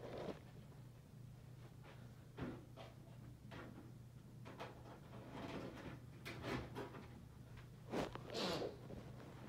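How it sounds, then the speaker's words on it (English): A VHS tape is pushed into a VCR, heard as faint scattered plastic clicks, slides and clunks of mechanical handling over a low electrical hum, with no talk. "Hang on one second while I put the tape in."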